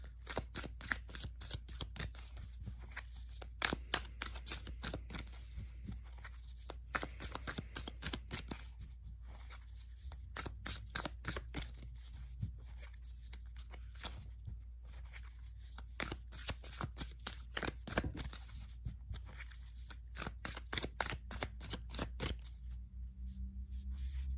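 Tarot cards being shuffled close by in repeated quick riffling bursts, soft and crisp, over a low steady hum with no talking.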